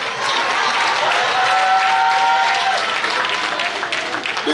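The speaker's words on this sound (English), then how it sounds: "give a very big round of applause for Joyce Adams" Sustained audience applause at a political party provincial conference, a dense roomful of clapping that stays steady throughout with a faint tonal whistle or feedback briefly in the middle.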